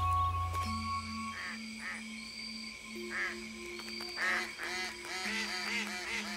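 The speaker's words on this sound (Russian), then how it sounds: "Утки." Ducks calling on a river island in the Polesye marshes, several honking quacks in bursts over steady tonal music, moderately close.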